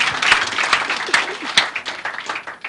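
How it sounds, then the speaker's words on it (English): Audience applause and clapping fill a live family call-in programme studio, a loud dense wash of many hands with crowd noise that swells and dips over a few seconds. "Now make una clap for yourself."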